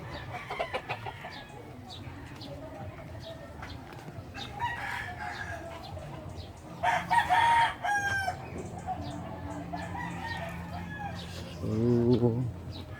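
Backyard chickens cluck around a farmyard while a rooster crows loudly a couple of times, with a person talking over the birds throughout.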